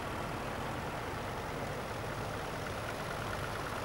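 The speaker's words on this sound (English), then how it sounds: "Another famous British bit of tractor there, the David Brown." A vintage David Brown tractor engine idles steadily at a tractor show, a continuous low rumble that holds an even level throughout with no talk over it.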